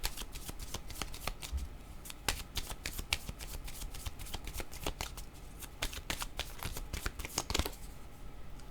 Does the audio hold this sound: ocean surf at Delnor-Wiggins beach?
no